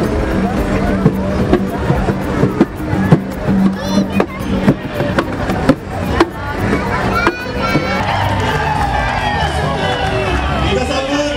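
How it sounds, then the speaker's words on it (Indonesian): A large outdoor carnival crowd at a music parade in Ambon claps and cheers in bursts. The loud hubbub continues under an announcer's amplified voice. "kita berikan tepuk tangan."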